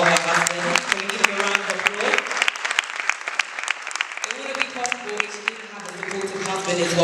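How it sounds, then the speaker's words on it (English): Audience applause at a book launch for Cry of African Women: steady clapping from a crowd that carries on for the whole stretch, with voices mixed in underneath. "Can we give him a round of applause?"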